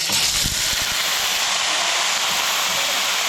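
Native chicken hits a hot pan for tinola, bursting into a loud, steady sizzling hiss with a few low thumps at the start, then continuing as an even crackling hiss.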